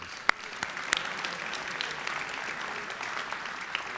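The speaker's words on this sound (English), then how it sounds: "Could we give them a round of applause?" Audience applause at a senior class night, a fairly faint, steady wash of clapping from a seated crowd, with a few sharper individual claps popping out over the sound.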